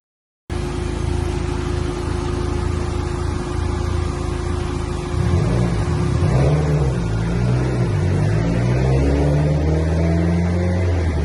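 A Dodge SRT4 engine running on a dyno, a steady loud mechanical drone that rises into a revving pitch sweep partway through, close and continuous with no talk.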